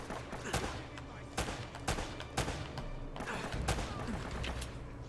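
Enemy gunfire in the video game Uncharted: several sharp, loud shots crack at irregular intervals over a low background rumble.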